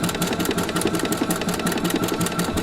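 A Husqvarna Viking sewing machine with a circular attachment stitches a round pattern, its needle chattering in a quick, steady rhythm close by, with no voices.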